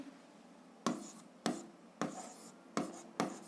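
Pen strokes set down an algebra solution for a 7th-grade equation exercise: five short, scratchy bursts of writing at close range, each starting sharply and trailing off, with quiet pauses between and no talking.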